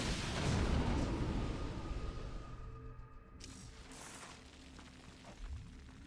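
Banshee aircraft fire during a StarCraft 2 match, producing quiet, rapid mechanical bursts of gunfire and explosion effects. The barrage fades gradually, then a few sharper clicks follow.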